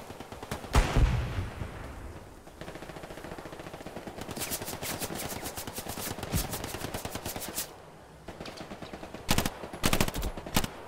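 Machine gun fire in the Hell Let Loose battlefield game rattles out in rapid, loud bursts with short gaps between them, some volleys sharper and closer than others, with no talk over it.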